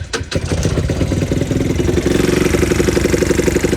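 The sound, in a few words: Talon GSX 150 R2 motorcycle engine starting and idling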